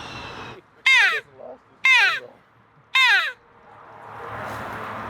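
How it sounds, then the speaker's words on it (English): A crow caws three times in evenly spaced, harsh, loud calls, heard outdoors during a Merriam turkey hunt, with soft background noise between the calls and no talking. "What was that, crow? Yeah, crow."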